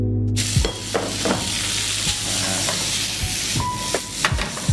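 Pasta dropped into a hot pan with garlic and onion for malunggay pesto, setting off loud close sizzling and frying with stirring scrapes throughout.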